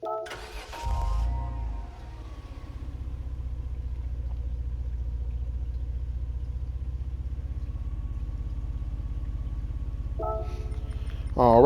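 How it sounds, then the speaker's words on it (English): A 2000 Renault Clio V6 24V in Gran Turismo 7 cranks briefly and fires up, then settles into a steady, throbbing low idle for several seconds before a short rev rises at the end. "So I'll click on this car, we'll listen to the startup sound"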